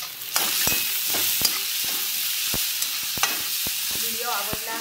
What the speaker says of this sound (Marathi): कांदा चांगला परतत आला